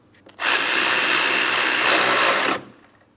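A power tool tightens 10mm bolts on the radiator fan bracket of a 2004-2008 Pontiac Grand Prix, one continuous loud burst of about two seconds that begins and cuts off sharply.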